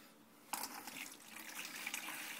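Water poured from a container into a mixing vessel for face-casting plaster, a sudden splashing gush that begins partway in and keeps up as a steady trickling, bubbling stream, close and moderately loud.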